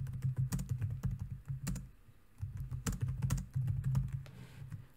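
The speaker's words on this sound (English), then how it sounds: "So I'll type in the next line for this set of lyrics." Steady bursts of keystrokes on a computer keyboard while typing a line of C++ code, close and clear with brief pauses between runs, no voices.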